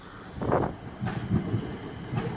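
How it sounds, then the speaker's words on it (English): A Stansted Express train running through a station platform without stopping, a steady rolling rumble with rhythmic wheel clatter over the rails, heard close and fairly loud with no talking. "Here comes the platform 2 through train. It's not stopping"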